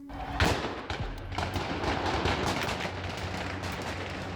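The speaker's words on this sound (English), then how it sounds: "heavy gunfire can be heard in the background" Bursts of gunfire crack out amid a noisy crowd of protesters in Afghanistan, shots fired into the air, one sharp shot standing out early and more pops scattered through the din.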